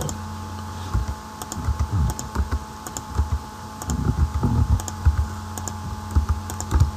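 A computer keyboard being typed on while values go into an Excel form, with bursts of close, crisp key clicks in irregular runs and short pauses over a steady electrical hum.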